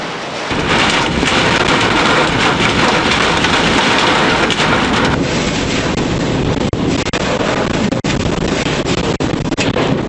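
Heavy tornado-producing supercell storm with thunder and exploding transformers, heard as a loud continuous roar of rain and wind buffeting the microphone, with low rumbling throughout and no talking.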